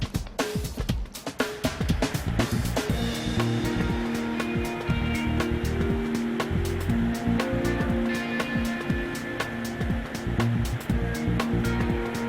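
Waves churn in a model test flume built to simulate a design storm against coastal defences with W-shaped walls, a steady loud rushing wash with repeated surging splashes over a low mechanical hum, with no talking.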